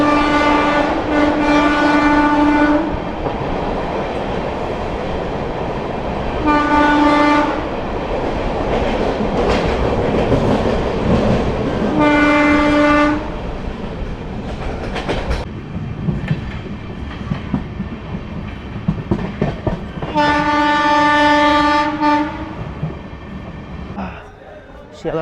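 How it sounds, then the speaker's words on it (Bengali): An Amrit Bharat Express running through Bardhaman junction without stopping sounds four long, loud horn blasts over a steady rumble and rhythmic clickety-clack of wheels on rails, heard close from on board, with a voice speaking in places. "আমাদের ট্রেন কিন্তু বেরিয়ে যাচ্ছে বর্ধমান।"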